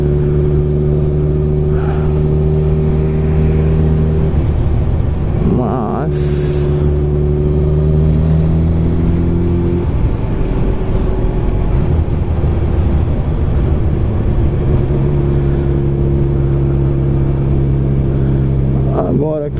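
A Honda CB motorcycle engine drones steadily while riding on the road at around 54 km/h, loud and close, its pitch shifting with throttle changes as someone talks over it throughout.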